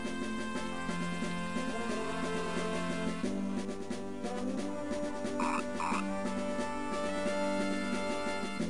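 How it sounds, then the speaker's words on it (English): Frog croaks from the Mother 3 video game, a few short croaking bursts set into a dense, continuous musical soundtrack that stays loud throughout. "Frogs."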